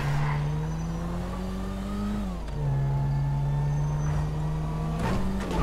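Car engine in Grand Theft Auto V drives with a loud, steady drone that dips in pitch as it shifts and then climbs back, with faint tire noise toward the end and no talking.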